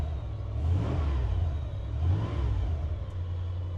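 A fuel-injected 1986 Ford F150 pre-runner engine runs just after starting, a low mid-pitched rumble that swells twice in short revs, close and steady, with no voices.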